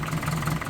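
A compound-turbo car engine idles steadily at close range, its low hum joined by the hiss and rasp of an exhaust leak blowing out the side near the rear tube, with no talking.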